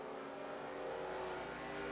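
Race cars in a racing video game drone past as a steady engine roar with slight pitch shifts, held at a constant level throughout.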